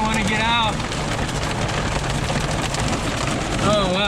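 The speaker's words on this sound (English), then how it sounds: "Oh wow, the hail's piling up." Hail pours onto a street in Creede, Colorado, making a dense, steady clatter and patter that stays loud throughout, while people's voices rise briefly at the start and end.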